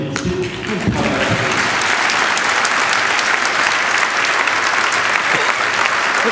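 Steady, dense audience applause fills the hall at a mayor's New Year wishes speech in Fontoy, loud and sustained throughout with no break.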